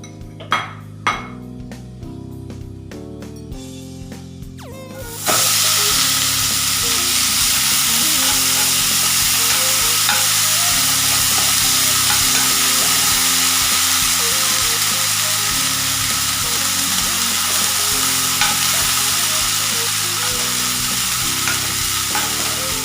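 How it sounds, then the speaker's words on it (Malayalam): Broken wheat roasting in ghee for a laddu, stirred in a pan: after a few seconds of quieter clinks, a loud steady sizzle takes over and runs throughout, with scraping and stirring sounds beneath and no voices. "സെയിം നെയ്യിൽ തന്നെ നേരത്തെ കഴുകി വൃത്തിയാക്കിയ നുറുക്ക് ഗോതമ്പിട്ട് നല്ലതുപോലെ റോസ്റ്റ് ചെയ്തെടുക്കാം"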